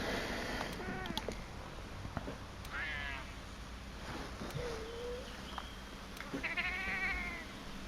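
Cat-like Grimalkyne tribe members in Monster Hunter World: Iceborne let out several short meows and caterwauls over a steady jungle ambience of birds and game background sound.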